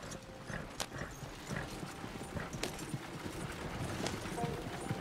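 Horse hooves clip-clop steadily in Red Dead Redemption 2, a game set in the Old West, with a continuous mid-level rhythm of footfalls over ambient outdoor noise and no talking.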